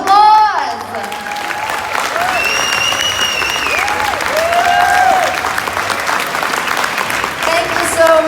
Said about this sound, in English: And now I need a round of applause.